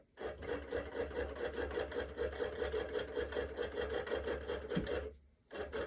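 A longarm quilting machine stitches double gauze at a stitch every half inch, a fast, even mechanical rattle running steadily before stopping abruptly near the end.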